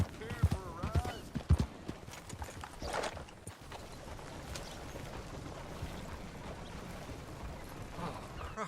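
A horse in a Western video game clip-clops along in steady hoofbeats, loudest at first and then settling into a softer, continuous trot with rustling ambience and a voice over it.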